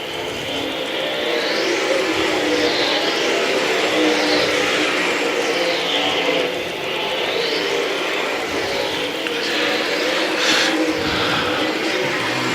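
Race cars roar around a short oval track at the Alabama state race after the green flag, a dense continuous engine drone with repeated rising and falling passes as cars sweep by.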